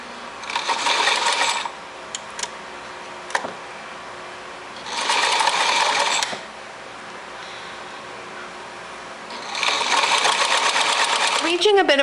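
A sewing machine stitches along the folded edge of a 1946 Vogue vintage dress in three separate bursts of close, steady whirring, with pauses between them and a person talking during the quiet gaps.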